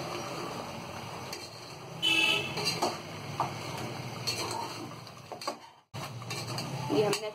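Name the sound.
stirring mutton korma masala in a pot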